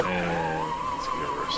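A taildragger aircraft engine in Microsoft Flight Simulator catches and runs, a steady droning tone that rises in pitch, loud and close.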